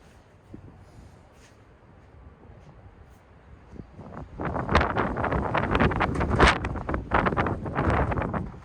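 Wind blows outdoors, quiet at first, then rising into loud, rough gusts buffeting the microphone for the last few seconds.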